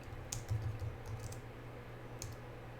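Quiet keystrokes on a computer keyboard: a few scattered light clicks and taps, close but faint over a low steady hum, with no talking.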